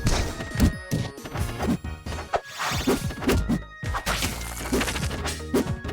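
Rapid game hit effects from a Rivals of Aether match between Maypul and Kragg, including a down strong attack, sound as a dense run of punchy whacks, thuds and crashes at an uneven fast rhythm over background game audio.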